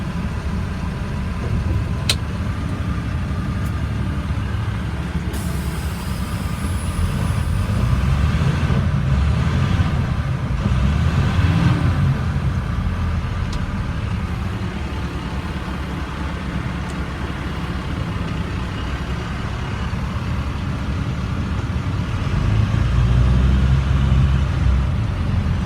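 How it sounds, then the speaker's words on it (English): A 2007 International 4400 dump truck drives along, its engine a steady low rumble heard from inside the cab, with occasional knocks and rattles and a heavier surge near the end. "So you can see the transmission engaged and hopefully see the way that it drives."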